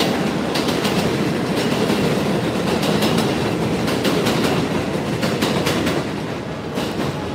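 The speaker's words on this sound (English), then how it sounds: "let this train pass." A train rumbles past close by on a street in Jackson Heights, Queens, New York, steady and loud, with rhythmic clickety-clack of wheels on the rails throughout.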